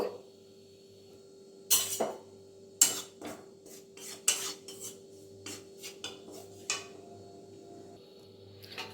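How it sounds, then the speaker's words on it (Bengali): Gram flour (besan) roasting in a hot wok, with a utensil scraping and rasping against the metal in a run of separate strokes that have quiet gaps between them, over a faint steady hum. "বেসনটাকে খুব ভালোভাবে ভেজে নেব"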